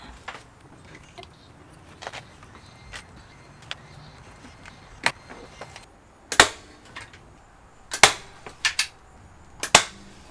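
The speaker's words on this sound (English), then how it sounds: "What do you think about that staple gun?" A staple gun fires in sharp, close snaps during a van floor and panel install. The shots come in irregular bursts, several loud ones near the end, over a faint background of handling noise.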